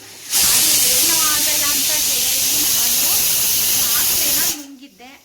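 A pressure cooker cooking rice vents steam through its whistle in a loud, continuous hiss that lasts about four seconds, then cuts off abruptly, with nothing else audible.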